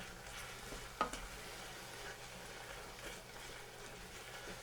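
Mushroom risotto rice is stirred in a pot with stock, a faint, continuous bubbling sizzle with one brief sharp scrape of the spoon early on.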